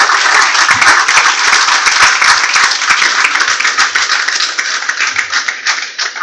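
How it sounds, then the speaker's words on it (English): An audience at an aviation careers conference gives loud, close applause for a panel, crisp rapid claps packed densely throughout and easing slightly toward the end. "I'm sure you know that you're going to clap again because that's not good enough."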